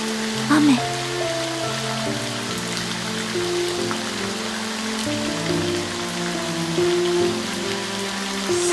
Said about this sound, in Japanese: 雨。